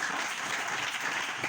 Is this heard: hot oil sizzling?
no